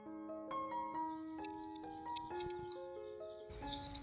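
Birds chirp and tweet in short bright bursts of song on a clear morning, several quick phrases repeating close by, with a soft steady tonal hum underneath.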